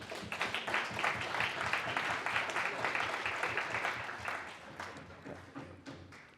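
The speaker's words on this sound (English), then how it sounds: "have a round of applause for Francis" Applause from a gathered audience for a man named Francis, dense steady clapping that holds strong for several seconds and then thins into scattered claps.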